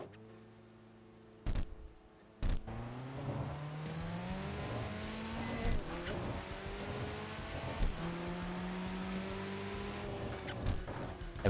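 A Honda NSX in the racing video game TXR 2025 revs and accelerates through rising and falling engine notes, with a couple of sharp clicks at the start and gear changes as it drives on, at moderate loudness.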